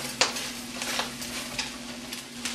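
Button mushrooms cut into quarters and ground meat sizzle steadily in a pan on lowered heat for homemade Hamburger Helper, with a few sharp scraping stirs breaking through the constant close frying hiss.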